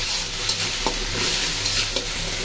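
Tomato sizzles and is stirred in a pan while a small-fish curry is cooked, giving a steady loud frying hiss broken by a few sharp scraping stirs.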